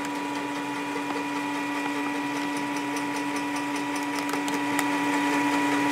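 An M2 X Series printer drawing ink into its lines during a refill, giving a steady mechanical pumping whir with a constant tonal hum and faint ticking that grows slightly louder toward the end.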